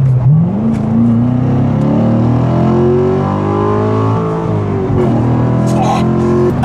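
A Corvette C7 Stingray engine pulls hard, its note climbing steadily while overtaking, loud and close from inside the car, with a shift and renewed rise near the end and people talking over it.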